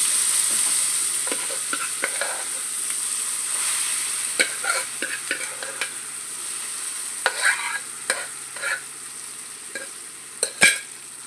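Cooked dal tipped into a sizzling tempering of garlic, cumin, mustard seeds, dried red chillies and curry leaves, then stirred, with a steady hot sizzle under repeated scraping spoon strokes against the pan and a sharp clatter near the end.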